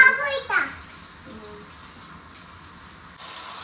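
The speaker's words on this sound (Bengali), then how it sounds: "গরম জল দিয়ে শাকগুলো একটু ভালো করে ধুয়ে নেব" Water gushes and splashes into a basin as leafy greens are washed in hot water, a steady close rush and trickle following a brief burst of a voice at the start.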